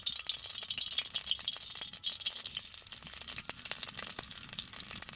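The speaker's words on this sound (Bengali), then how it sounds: "ওই তেলের মধ্যে আমি দিয়ে দেবো পেঁয়াজ কুচি" Chopped onion fries in hot oil in a wok, a faint, even sizzle with crisp crackling and light rattles running steadily throughout, no one speaking.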